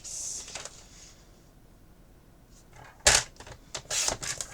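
Paper being trimmed down to size for a scrapbook page, with a quiet pause followed by a sharp close cut and a few brisk crisp slicing or handling sounds.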